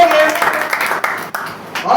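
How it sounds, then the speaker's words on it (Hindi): Church congregation breaking into loud clapping and applause during a Hindi-language worship service, steady and dense, mixed with voices. "खुदा बाप और बेटे खुदा रूह के लिए जोरदार तालियां"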